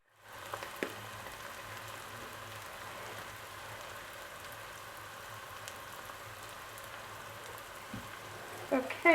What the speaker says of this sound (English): now we just let this simmer